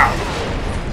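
A ground pound attack in the 2011 Xbox 360 game Space Marine lands as one loud, dense crashing impact. It fills the whole second with a broad rumbling burst that barely fades.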